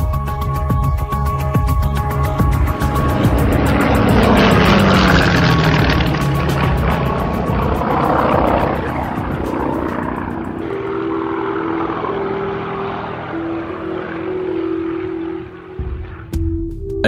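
Propeller engine of an Il-2 wartime attack aircraft, a loud continuous roar that swells and then drones on steadily with a shifting pitch, alone without any talk.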